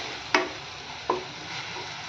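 Tomato puree fries steadily in hot oil for a dhaba-style chana masala, a continuous close sizzle broken by two sharp stirring scrapes of a spoon against the pan.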